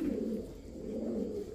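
Pigeons, including Pakistani Teddy, Kamargar, Golden, Damascene and Budapest breeds, cooing softly and steadily in a low continuous murmur, nearby and alone.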